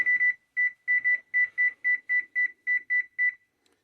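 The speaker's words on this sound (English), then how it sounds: "Let me set the timer here." A series of short, high electronic beeps in an irregular rhythm, about a dozen presses of an appliance keypad setting a cooking timer, clear and close.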